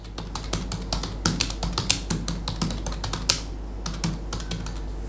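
Fingers type a keyword on a computer keyboard: a rapid, uneven run of close, crisp key clicks with occasional heavier taps, steady throughout with no talk.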